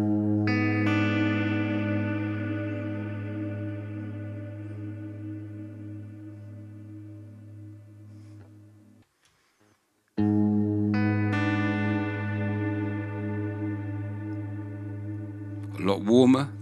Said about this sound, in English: Just going to play one chord and we'll flick between the two